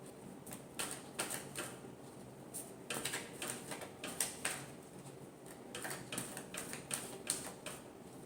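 Tarot cards are shuffled in repeated quick bursts of soft riffling and flicking, close and quiet, with short pauses between rounds.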